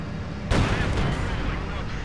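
A single heavy tank cannon shot booms in the real-time strategy game Company of Heroes 2, a sudden loud blast that rolls on with a lingering rumble.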